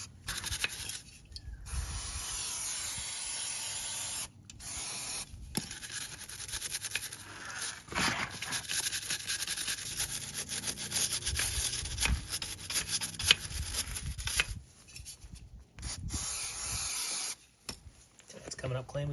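A bike chain and sprocket are scrubbed with a brush or rag in repeated rubbing and scraping strokes that come in uneven bursts with brief pauses. Spray hiss and a faint voice are also present.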